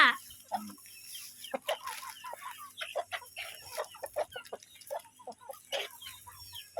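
Chickens cluck and chatter close by in short, irregular bursts, with a soft background hum and no talking.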